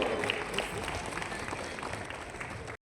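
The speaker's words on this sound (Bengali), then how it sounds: "আপনাকে বরণ করার সময় একটা জোরে হাততালি হোক।" An audience applauds to welcome an actor known from the serial Jagaddhatri, giving a brief, fairly faint burst of steady clapping with some crowd murmur that stops abruptly.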